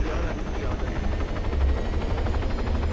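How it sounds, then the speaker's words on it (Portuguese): Steady helicopter rotor chop from the military game ARMA 3, a loud continuous low thrumming drone heard alone for a few seconds. "Vou pra prisão. De helicóptero, cara."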